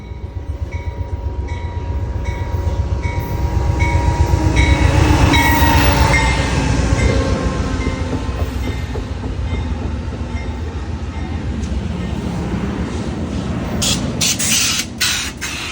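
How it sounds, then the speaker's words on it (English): An Amtrak passenger train rumbles steadily closer and rolls past into the Olympia/Lacey, Washington station with heavy, continuous noise, wheels clacking and a brief high squeal near the end. "in a moment or two, the train will arrive."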